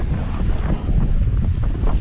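Steady, loud wind buffeting a microphone over rushing high waves on a sailboat running downwind under a full genoa at about 5 knots, with water surging continuously and no talk.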